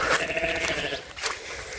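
A goat bleats on a fenced sheep farm outdoors, a wavering nasal cry heard over steady wind-like background noise, fairly close and loud through the short stretch.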